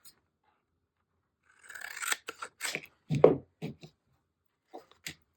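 Paper overhanging the edge of a journal page is trimmed with scissors, giving a handful of quick, close snips and rasping cuts in short bursts with quiet pauses between them.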